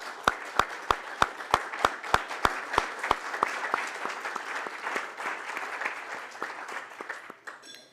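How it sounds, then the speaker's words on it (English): An anniversary celebration audience applauds committee members at a live event. Rhythmic, evenly spaced sharp claps come first, then a softer spread of clapping from the crowd that gradually fades. "please give them a round of applause"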